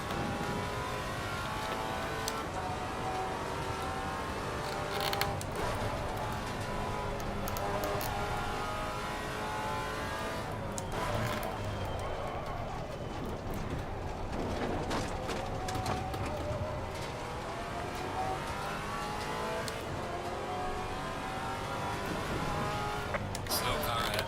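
GT4 race cars howl around the Oulton Park circuit in Assetto Corsa Competizione, a steady close engine drone that rises and falls through gear changes, with brief bursts of tire and track noise.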